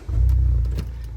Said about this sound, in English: Engine has started.